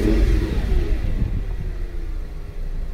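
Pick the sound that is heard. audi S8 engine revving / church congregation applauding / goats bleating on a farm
audi S8 engine revving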